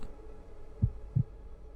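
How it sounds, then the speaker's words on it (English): A heartbeat in a horror video game gives two deep, muffled thumps about a third of a second apart over a low ambient hum. "Definitely a heartbeat."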